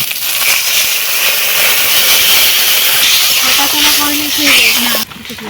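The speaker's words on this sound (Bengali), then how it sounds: "এবারে জল দিয়ে দেবো অল্প করে" Water poured into hot, well-fried spice paste of turmeric and chili powder in a village kitchen pan, giving a loud, steady steam hiss that lasts about five seconds before cutting off abruptly.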